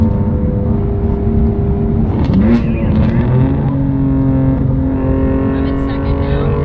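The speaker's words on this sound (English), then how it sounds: "First time doing a 2nd gear pull with the anti-lag." A BMW M2 Competition with rolling anti-lag pulls hard in second gear, its engine roaring steadily and close by under loud ongoing talk.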